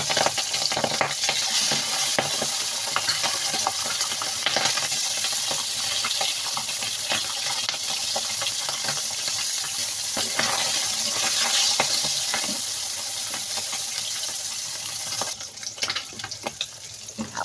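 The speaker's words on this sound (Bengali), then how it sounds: "তেলটা গরম হয়ে গেলে আমি মাছগুলো তেলের উপর দিয়ে সব মাছগুলো ভেজে নেব" Tangra fish frying in hot oil in a wok, giving a steady, close sizzle with faint crackle throughout and no talk.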